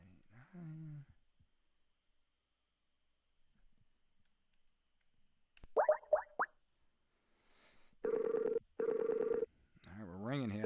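Touch-tone telephone dialing during a live sales call session: a quick run of short DTMF key tones, then two long steady tones in a row, with brief talk before and after.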